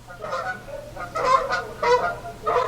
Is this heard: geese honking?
yes